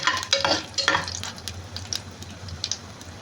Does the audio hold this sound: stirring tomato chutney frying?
yes